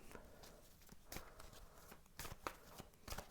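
Tarot cards being shuffled close by, a series of soft riffling bursts and taps spread across a few seconds.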